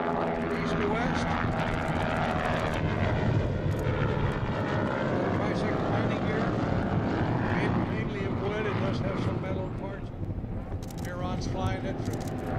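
A Northrop N9MB flying wing flying past at an airshow, its propeller engine droning steadily and loudly throughout, with a broad roar mixed with crowd and wind noise.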